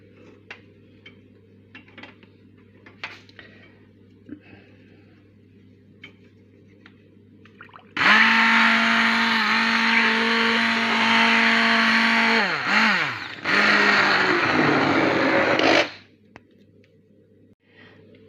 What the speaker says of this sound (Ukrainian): А це я переблендерую ось таким ручним блендером.